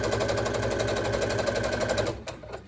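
A sewing machine stitches the lining of a drawstring bag in a rapid, steady run of needle strokes lasting about two seconds, then stops with a couple of soft clicks.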